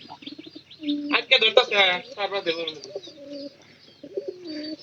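A pigeon coos in deep, throaty bursts, close and clear, with brief chirps and fluttering sounds mixed in between the calls.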